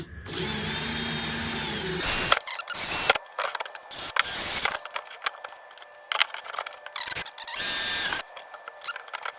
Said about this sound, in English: I'm drilling the rivets out from the back side